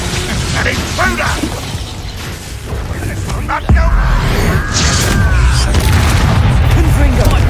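Confringo blasting spell in the Hogwarts Legacy video game, a loud booming explosion near the middle followed by mechanical clatter and rumble, with voices shouting over the scene.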